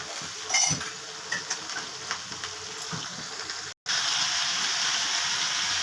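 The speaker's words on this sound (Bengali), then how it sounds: "মিক্সড ভেজিটেবিলটা আমি যে আজকে করছি ফ্রাই" Mixed vegetables frying in a pan with occasional utensil clinks and stirring over a continuous hiss, which briefly cuts out and then returns louder and steadier.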